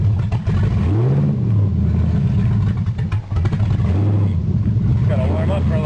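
Ford Granada engine idling and warming up, a steady rumbling run with a couple of brief revs rising and falling, heard close under ongoing talk.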